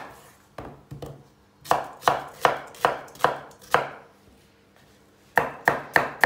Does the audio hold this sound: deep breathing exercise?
no